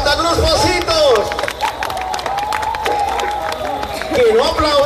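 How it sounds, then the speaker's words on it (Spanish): A dense crowd at the Atltzayanca carnival parade in Tlaxcala, 2018, claps and cheers in a steady, loud wash while voices and a public-address announcer carry over the noise. "Aplausos a Santa Cruz Pocitos."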